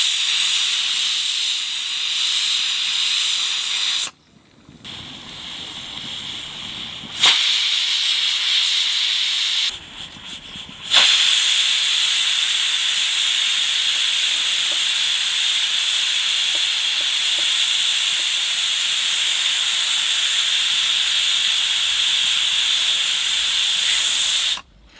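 Steady, loud hiss of a pressure cooker releasing steam while cooking chickpeas for chana masala. The jet is briefly cut off twice early on, then blows continuously and alone to the end.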